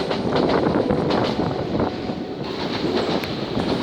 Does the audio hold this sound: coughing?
no